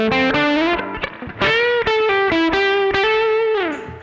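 An electric guitar on its humbucker pickup played through the boost side of a Bogner Ecstasy pedal, a short distorted melodic phrase of sustained and bent notes, close and loud with no talking.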